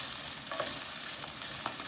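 A salt-and-pepper seasoned steak browns in a pan, giving a steady, close sizzling hiss with faint crackles and a couple of soft stirring touches.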